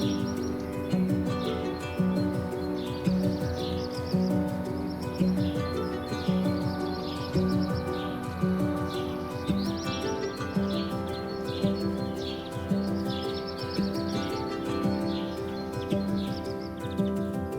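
Birds chirp and call steadily among spring blossoms along garden paths in China, with repeated bright tweets over a dense layered background that sounds like music, continuous and moderately loud.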